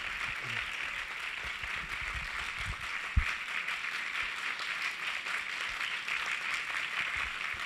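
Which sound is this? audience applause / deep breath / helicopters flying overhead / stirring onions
audience applause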